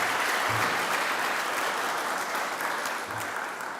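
Audience applause welcoming a speaker at a university hooding ceremony, a steady broad wash of clapping from a large crowd that holds for about four seconds and slowly tapers.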